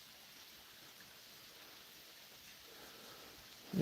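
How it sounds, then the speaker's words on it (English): Recorded nature sounds play as a soft, steady, rain-like hiss meant as white noise for sleep, faint and unbroken throughout. "It's Mother Nature sounds."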